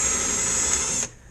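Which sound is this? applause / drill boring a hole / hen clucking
drill boring a hole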